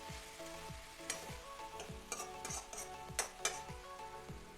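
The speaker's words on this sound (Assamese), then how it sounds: "ইয়াত মই পানী ব্যৱহাৰ নকৰোঁ এনেকৈয়ে ভাজি থাকিম" Fish heads frying in a pan without any added water, a steady close sizzle with scattered pops and a few sharp clinks of stirring.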